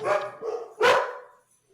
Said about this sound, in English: I don't even know what they're barking at.